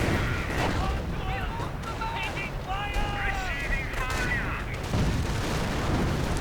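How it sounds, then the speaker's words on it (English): Artillery fire in a World War II real-time strategy game, repeated booms and gunfire crackle under continuous game sound effects, with people talking over it. "So much artillery, so much death."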